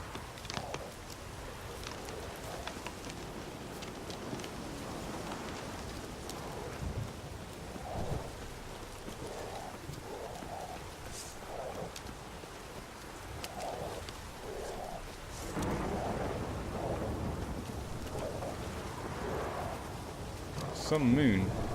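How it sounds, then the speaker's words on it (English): A thunderstorm in the video game Witcher 3 brings steady rain hiss with deep rumbling thunder rolling underneath, swelling louder toward the end, while someone talks intermittently over it. "The storm, damn it."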